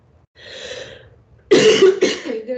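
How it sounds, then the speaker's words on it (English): A single sharp, close cough bursts out after a brief breathy sound, followed by a shorter second cough. "I just wanted to cough"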